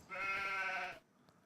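A single sheep bleat from Farming Simulator 25, a loud, wavering call of about one second heard alone in a winter farm setting, then near silence.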